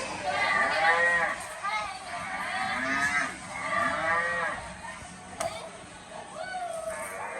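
A cow moos several times at close range, long, low, drawn-out calls with short pauses between them, while a few people can be heard faintly in the background.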